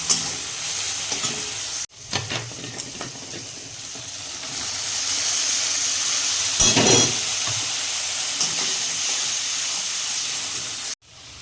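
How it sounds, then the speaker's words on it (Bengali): Onions and tomatoes fry with panch phoron in a pan with a steady hiss and sizzle, with occasional stirring and a brief burst of steam midway. "এবার মোচাটা রান্না করি পেঁয়াজ টমেটো পাঁচফোড়ন দিয়ে এটা ভাজছি"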